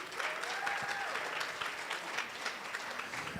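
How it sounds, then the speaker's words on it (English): A room of attendees at a mix-and-mingle session gives a big round of applause for the platinum sponsors, dense continuous clapping filling the space at moderate distance. "let's give our Platinum sponsors one more big round of applause, please"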